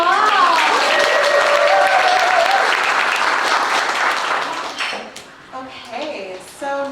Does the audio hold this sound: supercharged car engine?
no